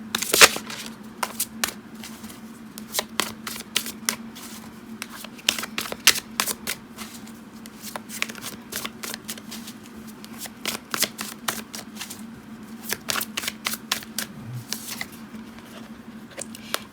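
Tarot cards shuffled by hand at close range, a continuous rustle of sharp flicks and riffles with one loud snap at the start, running steadily without voices.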